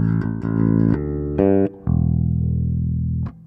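A bass guitar recorded through direct input plays a short run of clean, close notes, from quick plucked attacks to a longer sustained low note that rings out.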